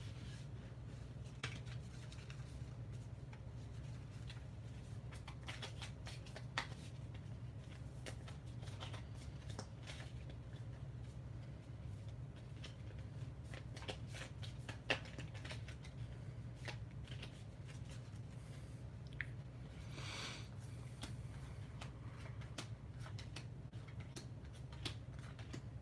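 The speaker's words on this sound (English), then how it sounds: "Do not shuffle the normal way with Pokemon cards." Pokémon trading cards being shuffled by hand, soft repeated riffling and flicking clicks over a low steady room hum, faint and close throughout.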